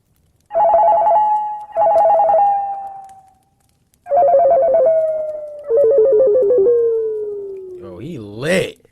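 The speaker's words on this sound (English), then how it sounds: "I remember hearing my cell phone ringing throughout the night." A cell phone ringtone in an animated horror story, loud and near: two long warbling tones, a pause, then two more that slide slowly downward, closing on a brief wavering vocal sound.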